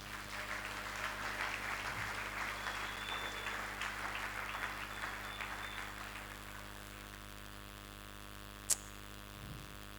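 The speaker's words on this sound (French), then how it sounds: "acclamons pour les papas" A church congregation claps together for fathers, a dense wash of applause lasting about six seconds before fading into quiet room hum.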